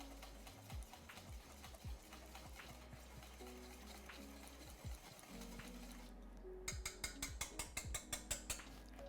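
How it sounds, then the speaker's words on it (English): A wire whisk beats a rich egg-yolk sauce seasoned with salt in a bowl, producing soft continuous clicking that turns into a fast, even run of sharp whisk taps near the end. "Done with the whisk."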